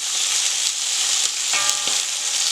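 Veal osso buco browning in a hot pan, a continuous bright sizzle and crackle, close and fairly loud, with a couple of faint utensil taps.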